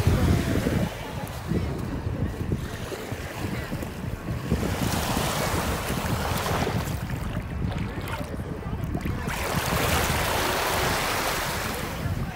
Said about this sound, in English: It's a little windy, but it's perfect.